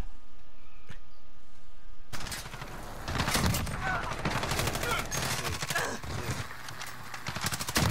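A 725 shotgun firing slugs in a first-person shooter game: after a quiet opening, loud, rapid bursts of gunfire and clattering impacts crowd together in dense, chaotic volleys, close and harsh.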